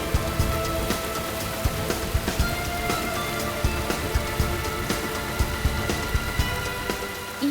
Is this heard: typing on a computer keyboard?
no